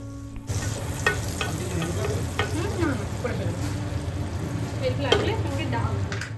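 Minced garlic, five or six cloves, hits a spoonful of melted butter in a pan for white-sauce-style pasta, starting a close, even sizzle dotted with light clicks and scrapes of stirring.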